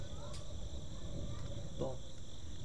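Crickets chirp steadily as background ambience in The Darkside Detective video game, a faint, continuous high trill with a few brief soft clicks and no speech.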